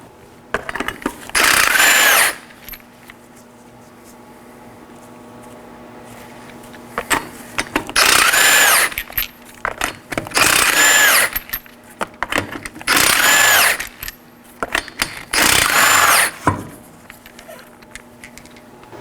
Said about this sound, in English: You're going to want to use a 21mm socket to remove these 5 21mm lug nuts.